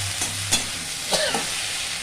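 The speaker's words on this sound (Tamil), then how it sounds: "ரெண்டு நிமிஷம் வதங்கட்டும் மொத்தமாக வெங்காயம் வதக்கிக்கிட்டே இருக்குது" Okra and onion sautéing in a pan for a simple stir-fried side dish, a low steady sizzle with a few soft spoon scrapes and stirs against the pan, no voices.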